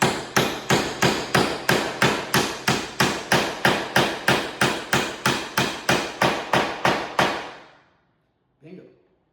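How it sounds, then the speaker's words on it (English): A hammer strikes wooden pegs into a floating drawbore tenon, with about twenty-two sharp, evenly spaced blows that ring briefly. A short pause follows, then one faint knock. "we're going to hammer away at this guy"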